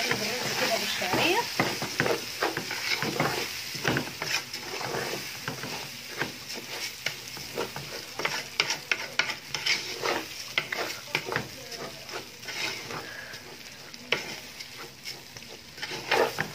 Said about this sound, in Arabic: نقلب الرز كده بالشعرية